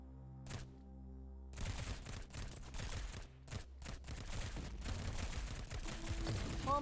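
Gunfire in the video game Girls' Frontline, with a lone shot over calm music followed by dense rapid bursts of rifle and machine-gun fire, loud and continuous, with the music still faintly underneath.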